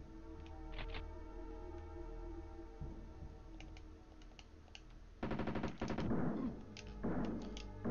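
Gunfire from a Jurassic Park video game played on hard mode: rapid bursts of close, loud shots late in the stretch, above a steady game background hum.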